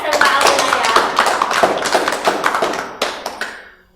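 An audience claps for SMK Al Inayah students at a school event, dense overlapping handclaps filling the room and then tapering off into a few scattered claps.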